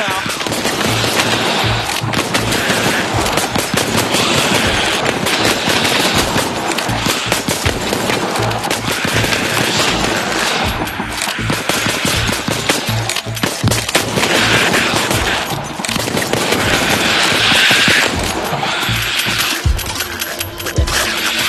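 Video game gunfire, dense and loud, with rapid bursts and rattling shots running almost continuously, mixed with game noise and occasional talking.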